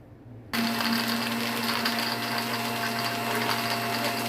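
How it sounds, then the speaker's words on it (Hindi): A blender grinds a mint margarita of fresh mint, 7 Up and ice cubes, starting abruptly after a short quiet moment and then running as a steady, loud, continuous whir right to the end. "और साथ में हम आइस क्यूब्स डालेंगे और अब हम इसको ग्राइंड करेंगे"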